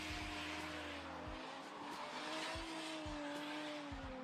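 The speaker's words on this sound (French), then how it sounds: "Et Gaël Maillet qui s'élance pour son second run" A drift car sets off on its run at a French drift championship, its engine droning steadily under broad tire-squeal noise, with a few low thumps along the way.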